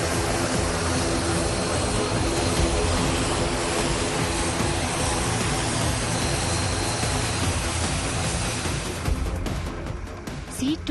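A C-295 military transport aircraft of the Indian Air Force roars loud and close with steady, dense engine and propeller noise that fills the whole clip, easing slightly near the end.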